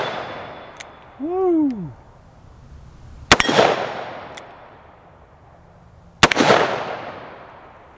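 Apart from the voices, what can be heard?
Ruger GP100 .357 revolver gunshots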